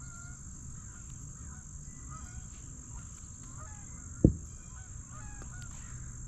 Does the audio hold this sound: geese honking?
yes